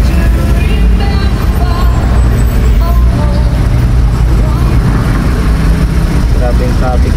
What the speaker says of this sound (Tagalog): Grabe yung traffic dito.